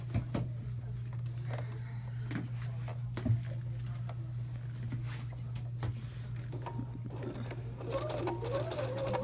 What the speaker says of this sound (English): we're going to do a top stitching, and we're going to use that kind of 1/8 inch mark again